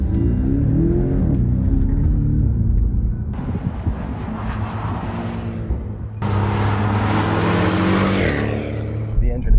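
A 2020 Porsche 718 Cayman S engine roars loudly and continuously, its pitch jumping abruptly as it drops through the gears.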